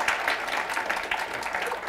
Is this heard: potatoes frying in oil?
no